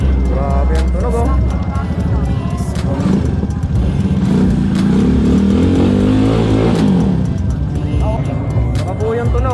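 Exhaust fitted with an AC Project muffler at a motor show in Umingan, Pangasinan, revving loudly and close with a deep, throaty drone that swells into a higher rev partway through, while people talk over it.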